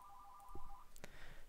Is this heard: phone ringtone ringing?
yes